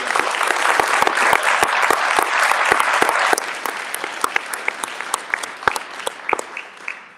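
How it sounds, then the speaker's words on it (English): An audience at a district state-of-the-district event claps steadily, a dense round of applause that gradually thins into scattered individual claps near the end. "So let's give her a round of applause."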